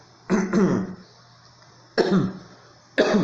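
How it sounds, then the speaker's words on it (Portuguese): A man clears his throat three times during a Portuguese-language adult Bible class, short harsh rasps close to the microphone separated by quiet pauses. "tacou aqui um pigarrozinho"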